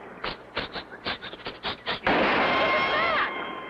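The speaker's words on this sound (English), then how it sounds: "Someone's shooting at us." Cartoon gunfire aimed at a plane over a deserted beach: a rapid run of about ten sharp blasts, then a loud sustained whooshing roar with a rising whistle, close and dominant.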